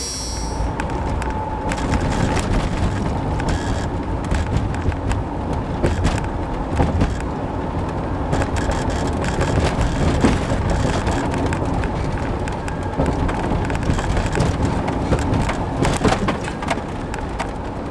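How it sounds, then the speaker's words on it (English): An RV rolls along a city road with its fresh water tanks being sloshed, giving a loud, continuous interior rumble and road noise with occasional rattles and knocks throughout. "we have to go for a drive."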